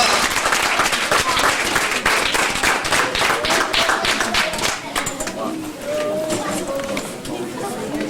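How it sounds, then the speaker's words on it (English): An audience applauds to welcome a poet, a burst of dense clapping that fades after a few seconds into murmuring chatter and a voice. "A round of applause please."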